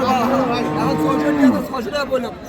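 Cattle low at a busy Raniganj livestock market in Dinajpur during the Qurbani season, a loud drawn-out moo close by amid surrounding crowd chatter.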